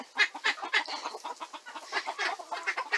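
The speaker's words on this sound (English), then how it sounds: "they are all together, the chickens and the ducks" Chickens cluck and chatter continuously in short overlapping bursts, fairly close, kept together with ducks, with no talking.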